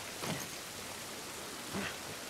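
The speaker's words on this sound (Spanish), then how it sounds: "Esta lluvia no nos va a ayudar." Steady rain falls in the video game The Last of Us, a soft, even hiss at low level with two brief voice-like murmurs rising above it.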